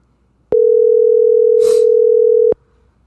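A steady telephone dial tone sounds loudly for about two seconds, starting and stopping abruptly, with a faint brief rustle partway through.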